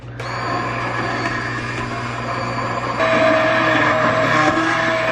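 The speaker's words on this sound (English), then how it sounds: "What we do is take our immersion blender and just blend this up." A steady, loud motor whir of an immersion blender churning through a thick, partly chunky soup, running continuously with a slight pitch and intensity shift midway; no voices.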